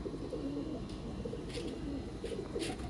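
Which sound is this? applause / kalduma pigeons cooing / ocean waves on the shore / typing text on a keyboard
kalduma pigeons cooing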